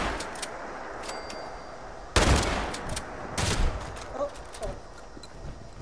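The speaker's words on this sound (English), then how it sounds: "Bit of pump action." Pump-action shotgun fire in the video game Fallout 76: two heavy blasts a second apart stand out over a backdrop of scattered distant gunfire, with some voice chat in the mix.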